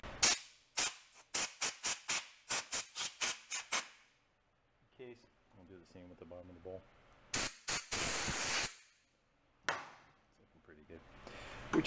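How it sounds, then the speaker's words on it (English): A handheld air gun blasts compressed air in sharp repeated bursts through the carburetor of an old, broken yard-sale lawn mower, with one long hiss near the end; a voice speaks briefly in between. "I will give it a quick shot with the air gun."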